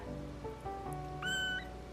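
Soft, faint meows from a feisty two-week-old foster kitten, a few short high cries in quick succession, heard close with no talking.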